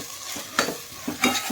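Spiced Godavari-style fish curry stirred in a pan with a ladle, a few soft scraping strokes over a faint sizzle, close and quiet.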